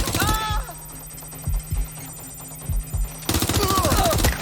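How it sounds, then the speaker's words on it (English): Gunfire in the Watch Dogs Legion video game: several sharp, spaced shots thud at irregular intervals, fairly close, while voices talk at the start and end. "Taking fire!"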